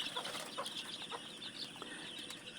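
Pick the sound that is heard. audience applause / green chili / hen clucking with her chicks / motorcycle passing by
hen clucking with her chicks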